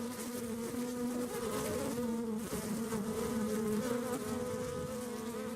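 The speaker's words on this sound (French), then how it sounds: "Un son qu'on appelle le chant des abeilles ouvrières, qui est un signal d'une ruche perturbée." Worker bees in a disturbed hive make a dense, steady buzzing drone that fills the whole stretch, loud and continuous with no voices.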